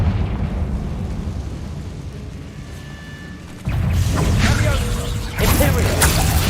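Booming fiery blasts from the Confringo spell in Hogwarts Legacy erupt twice, each a heavy rumbling burst over continuous game ambience and a speaking voice.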